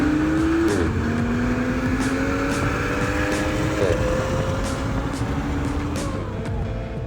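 BMW M340i with a full exhaust and no tune racing another 340i with a first-gen B58 and exhaust; steady engine drone with rising pitch, two brief shift breaks, loud and continuous with no talk.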